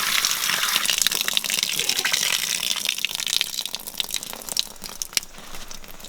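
Water gushing steadily from an Enkeeo portable bucket shower system outdoors, a loud continuous hissing spray that softens slightly toward the end, with no talk.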